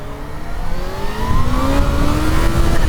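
A Kawasaki Z H2 motorcycle engine revs hard during a wheelie, its pitch climbing steadily as the throttle is held open, loud and continuous with no talk.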